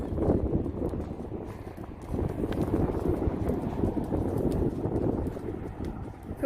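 A horse trots during a training session, its hooves beating in a steady, fairly close rhythm over wind noise at the microphone.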